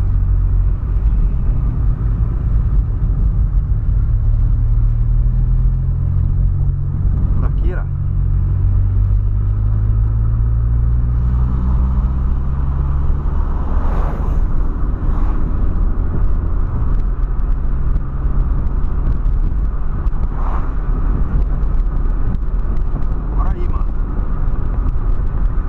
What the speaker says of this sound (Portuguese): Test drive brabo com meu Polo sedanzão terminado aí